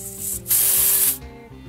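Gas hisses sharply as a CO2 cartridge is screwed into an ASG/KWC Dan Wesson Valor airsoft pistol, a single bright burst of about two-thirds of a second set between quieter handling noises.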